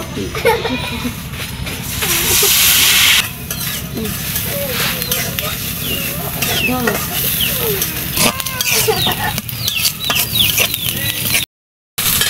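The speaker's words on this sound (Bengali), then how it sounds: "এখন পেঁয়াজ বাটাটা দিয়ে দিব।" Onion paste fries and is stirred in a pan, giving a continuous sizzle with scraping strokes, while faint voices and chicken clucks sound in the background.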